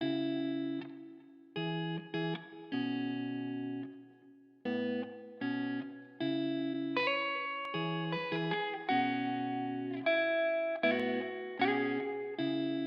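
A melodic guitar loop with EQ and reverb, sustained, reverberant notes repeating in phrases, soft attacks, and no voices.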